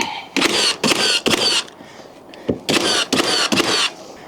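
A pneumatic nail gun fires through a timber stud into junction blocks while a timber wall is framed, giving about five sharp, close bursts in two quick groups with short pauses between.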